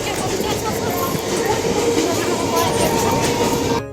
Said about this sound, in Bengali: ওই ট্রেনটায় আমরা নামলাম।